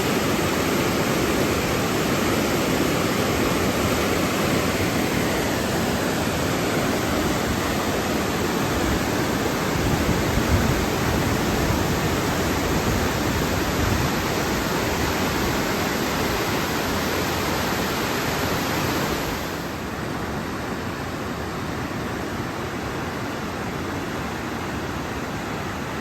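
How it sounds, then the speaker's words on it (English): The Stehekin River flowing below a standpoint just above it, a steady, broadband rush of water that fills the whole stretch without pause, loud and close, its level dropping slightly near the end. "right now I am standing just above the Stehekin River."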